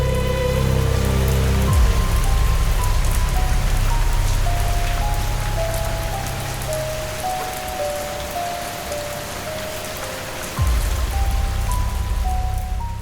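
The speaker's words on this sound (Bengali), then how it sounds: "বাইরে খুব ঝড় বৃষ্টি হচ্ছে" A heavy rainstorm hammers down steadily and loudly throughout, a dense wash of drumming drops with no voices, while a faint tonal background drones underneath.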